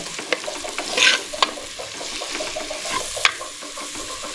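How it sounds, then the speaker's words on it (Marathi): Onion sautés in a pan with a steady sizzle while a spoon stirs it, scraping and clicking against the metal in uneven strokes close by, with no talk over it. "कांदा आपण याच्यामध्ये पूर्णपणे परतवून घ्यायचे"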